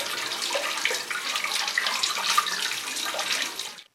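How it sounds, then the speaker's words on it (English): Running tap water splashing over a mango being washed in a sink, a steady close hiss and patter that cuts off at the end, with no talking. "Wash the mango properly."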